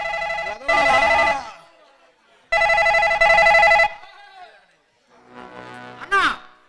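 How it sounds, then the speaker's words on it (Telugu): A phone ringtone sounds in loud, repeated bursts of a bright electronic tune separated by short pauses, with a quieter fading ring near the end. "అన్నా ఫోన్ వచ్చిందన్నా"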